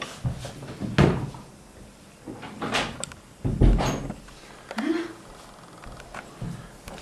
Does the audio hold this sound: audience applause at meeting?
no